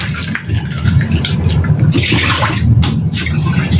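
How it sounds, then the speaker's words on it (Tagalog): Green peas being washed under a running tap, a steady rushing splash of water with some rattling as the peas are rinsed, close and fairly loud throughout. "Hugasan na ang ating green peas."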